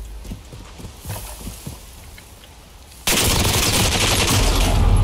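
Sustained automatic gunfire from a stockless gun in a shooter game, a loud, dense, continuous burst that erupts abruptly after a stretch of quieter footsteps and ambient game sounds.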